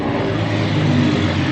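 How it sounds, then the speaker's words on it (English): A truck's Jake brake (engine brake) heard on a retaining-wall building site: a loud, steady, rumbling engine roar with rapid low pulsing, continuous and near throughout with no talk. "Jake brake."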